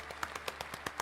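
Polite golf-style clapping in the video game Sucker for Love, a steady run of about eight light, evenly spaced claps, fairly close and alone.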